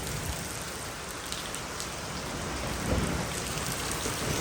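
Steady rain falls outdoors, a dense, even hiss of drops on surfaces that holds throughout with a slight swell near the end, and no voices.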